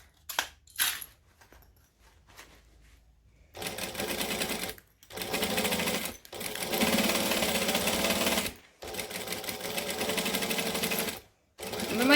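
A sewing machine stitching in close, loud bursts, several runs of rapid needle chatter separated by brief pauses and faint clicks.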